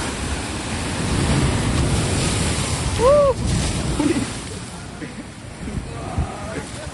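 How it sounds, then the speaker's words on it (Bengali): Sea waves rolling in at a new-moon high tide on Mandarmani beach, a broad steady surf roar with wind buffeting the microphone and a brief whistle-like call partway through. "অমাবস্যার জোয়ারটা দেখো"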